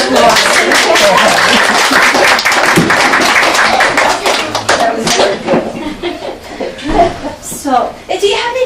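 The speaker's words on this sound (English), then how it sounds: "Please give the miss a round of applause" Applause and laughter from a small audience at an ice cream social at the Township of Ocean Historical Museum, dense and steady at first, then thinning into scattered claps, chuckles and chatter.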